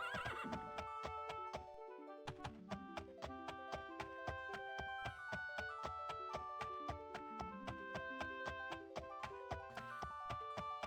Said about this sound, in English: we would have to park our horse outside of town